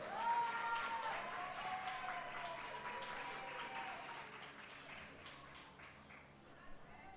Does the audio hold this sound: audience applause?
yes